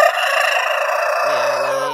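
A rooster crows loudly and close by, one long drawn-out call that shifts pitch partway through, with no other sounds around it.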